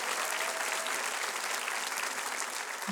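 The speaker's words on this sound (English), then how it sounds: "Yes, you should applaud." Sustained audience applause from a crowd at a talk show taping, dense and even throughout, with no voices standing out.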